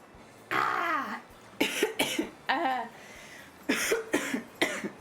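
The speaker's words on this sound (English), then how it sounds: "I like keep coughing and then I'm not doing anything about it by actually drinking something." A person with an irritated throat coughs in several separate bursts, some single and some in quick doubles, close and clear in an otherwise quiet room.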